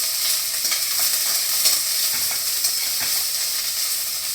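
Onions frying in a pan give a steady, bright crackling sizzle with small pops, close up and continuous, with no voices.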